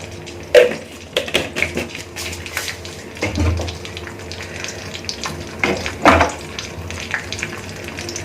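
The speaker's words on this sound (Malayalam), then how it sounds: "കടുക് പൊട്ടി തുടങ്ങിയിട്ടുണ്ട്." Irregular crackles and sharp pops of mustard seeds spluttering in hot oil over a low sizzle, with a few louder bursts scattered throughout.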